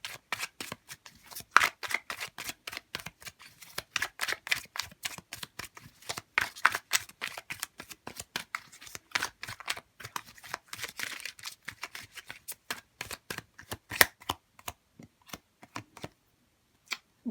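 Tarot cards being shuffled up close: a long series of crisp riffling snaps and flicks in an uneven but continuous rhythm, fading near the end, with no talking.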